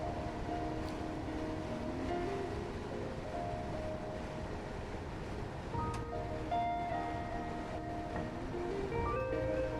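Train rolling on the Quarry Line in the Train Sim World 2 London commuter route, a steady rumbling drone with faint tonal whines and clicks from the wheels and motors, moderately quiet and without talk.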